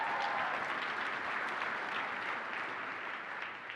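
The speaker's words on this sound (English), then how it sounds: "Now let's give her another round of applause" Keynote audience at a corporate tech conference applauding, a steady even wash of clapping hands that fills the hall and fades slightly toward the end.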